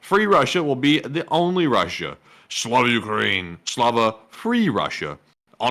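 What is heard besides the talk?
No everyday noise stands out behind the speech.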